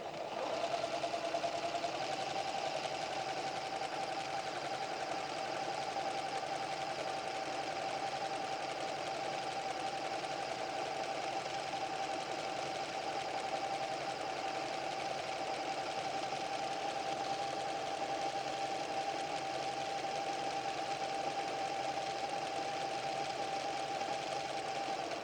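A PFAFF creative 7550 sewing machine stitches a dense decorative program nonstop, a close, steady whirring hum with a fine rapid needle rhythm and no talking.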